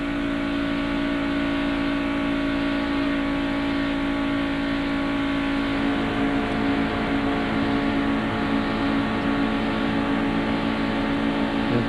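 NASCAR stock cars roar at the 1992 Pepsi 400 at Daytona, a continuous loud, steady high-revving engine drone at about 6,700 RPM on the back straightaway, heard from inside the car with no breaks for the full length.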